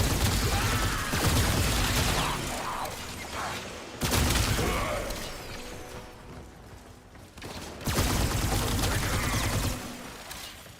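Rapid bursts of gunfire and combat effects from the video game Warframe come in three dense volleys separated by brief lulls, moderately loud, with a player's voice occasionally heard over the action.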